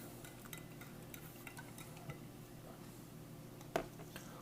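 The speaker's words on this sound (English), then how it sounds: "We'll just give her a good stir." A plastic spoon stirs MRE penne pasta with vegetable sausage crumbles in spicy tomato sauce, giving soft, steady scraping and squishing close by with one sharper knock near the end.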